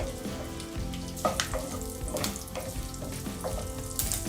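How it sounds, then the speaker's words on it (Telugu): Cut dried red chillies, along with green chillies and garlic, fry in hot oil for a chicken roast, giving a steady close sizzle broken by a few sharp crackles and stirring clinks, with no one talking. "మూడు ఎండుమిర్చి ఇలా ఇలా కట్ చేసుకొని వేసుకుందాం ఫ్రై చేసుకుందాం"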